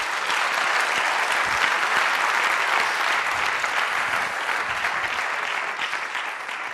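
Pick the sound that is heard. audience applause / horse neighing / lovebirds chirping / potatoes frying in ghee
audience applause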